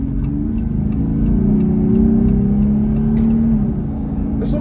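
Inside a Jeep Gladiator cruising on a 55 mph road, a steady engine drone blends with wind and road rumble, loud and continuous with slight pitch shifts as the truck moves.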